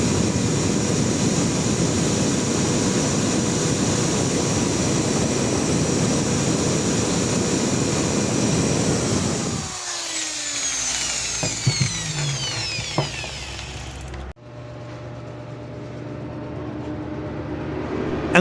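A 150-watt electric grinder powered from a 12-volt, 100 Ah battery charged by solar panels, running with a steady loud whine, then cutting off and spinning down, followed by quieter hum and rattles.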